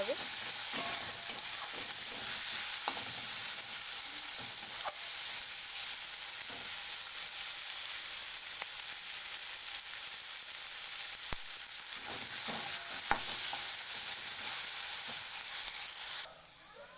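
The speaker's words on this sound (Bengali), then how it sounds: "সামান্য লবণ আর কিছুটা হলুদ আমি অ্যাড করলাম আচ্ছা এটাকে খুব সুন্দর করে আমাকে ফ্রাই করে নিতে" Chandramukhi potatoes seasoned with salt and turmeric fry in a pan with a steady, even sizzle, occasional scrapes and taps of stirring, until the hiss drops away abruptly at the very end.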